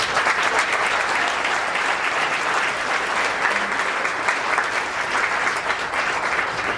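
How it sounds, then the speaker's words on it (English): Dense, steady applause from a gala audience honoring families, a continuous wash of many hands clapping at close range with no voices over it. "So round of applause for those families."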